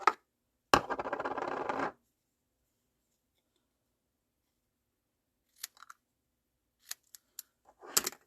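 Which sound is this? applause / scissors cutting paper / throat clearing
scissors cutting paper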